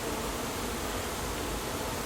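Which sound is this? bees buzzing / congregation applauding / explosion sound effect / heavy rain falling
bees buzzing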